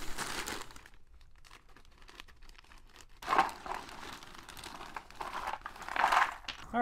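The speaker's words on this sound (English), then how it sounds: "we've got the pieces in a plastic bag." Jigsaw puzzle pieces shifting inside a plastic bag, crisp crinkling in two louder bursts with quieter rustling between, close and alone.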